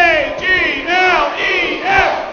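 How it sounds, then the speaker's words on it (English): Crowd chanting the Philadelphia Eagles cheer at a new football field dedication, a loud rhythmic group chant of spelled-out letters in several swelling bursts, voices in unison close by. "I think it would be most appropriate if we might do the Eagles cheer."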